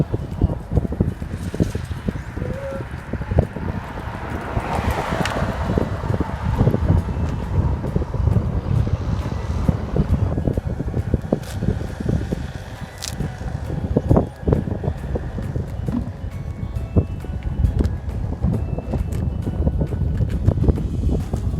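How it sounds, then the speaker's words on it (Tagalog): Strong wind on Samal Island, buffeting loudly and unevenly against the microphone as a constant roar with gusty surges, alongside faint scattered knocks and distant sounds. "Di hangin pag kaayo"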